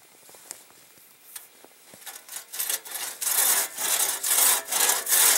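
A restored one-man crosscut saw cuts through wood, starting with a few faint, hesitant strokes before settling into loud, steady, rhythmic back-and-forth rasping close by.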